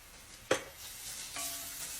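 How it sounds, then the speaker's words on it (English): Fenugreek seeds sautéing in oil for a spicy Tamil-style egg curry: a sharp utensil clink, then a quiet, even sizzle that swells slightly later on. "let the fenugreek sort of saute"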